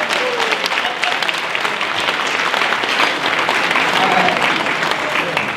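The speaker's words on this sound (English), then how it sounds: "give them all a round of applause" Audience applause at a chamber of commerce Chairman's Ball in Gainesville fills a banquet hall, steady and loud with dense clapping that holds evenly throughout, with some voices mixed in.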